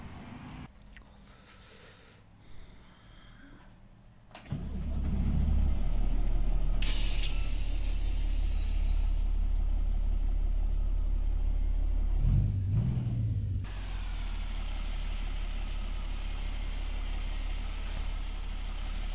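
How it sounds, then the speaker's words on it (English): A simulated truck in American Truck Simulator, hauling coupled B-double trailers, starts up with a clunk and settles into a steady, loud, low diesel rumble that rises briefly, then eases to a slightly quieter idle. "So let's take the truck, couple the trailers and see how they run."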